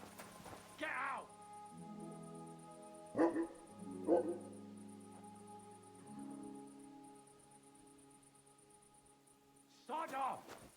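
The dog Mutt in Kingdom Come: Deliverance II gives a few separate barks and yips, close and clear, over a low steady game ambience with a voice speaking.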